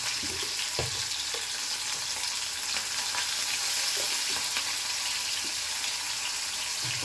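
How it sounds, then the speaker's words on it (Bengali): Steady crackling sizzle of paneer frying in oil, with occasional soft pops and clinks of a utensil. "আমি আগে ভেজে নেবো পনিরটাকে"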